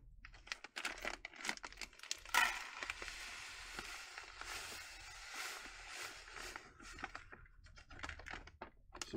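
A $200 plastic bag of dark gold paydirt from a potato patch being opened, with steady crinkling, rustling and tearing of the bag close up, some sharper crackles, and no talking.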